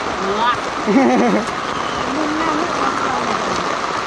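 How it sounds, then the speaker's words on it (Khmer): Heavy rain pours steadily at a Cambodian temple during a downpour, a dense hiss filling the whole stretch while voices talk and call out over it. "ភ្លៀងខ្លាំងអូភ្លៀងហើយ"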